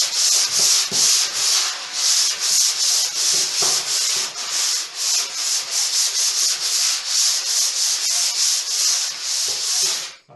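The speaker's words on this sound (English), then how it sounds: "the primer will harden it off and make it easier to sand" Hand sanding of primed new woodwork with 180 grit sandpaper, a loud close rhythmic rubbing scratch in steady back-and-forth strokes throughout, with no talk.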